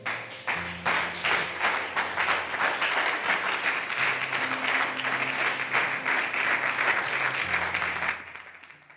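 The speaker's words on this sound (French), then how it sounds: "Est-ce qu'on peut acclamer le Seigneur?" A church congregation claps in acclaim of the Lord, with dense, loud applause that holds steady under faint sustained tones and then tapers off at the end.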